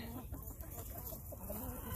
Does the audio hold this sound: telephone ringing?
no